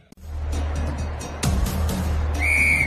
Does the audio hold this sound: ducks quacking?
no